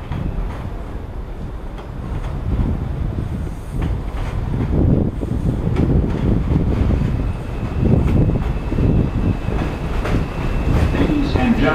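An R142 subway 2 train arrives at a station, rumbling loudly and close with rhythmic clattering wheels and wind noise that builds steadily over the whole stretch.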